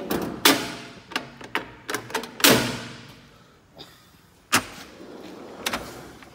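Drawers of a mechanic's tool box are slid and knocked in sequence, giving a series of sharp metallic clunks and rattling slides, fairly close and loud, with gaps of quiet between them and no talking.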